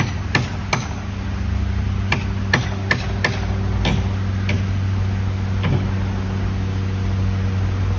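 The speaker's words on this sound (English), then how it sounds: "See, in my mind now, that's not a hammer, it's just a woodpecker." A woodpecker knocks on wood beside the Kennet and Avon canal, sharp isolated taps spaced irregularly over a steady low background hum.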